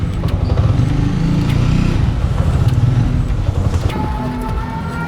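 A TVS Apache 200 motorcycle engine runs loud and close, a low rumbling idle with slight throttle variation throughout.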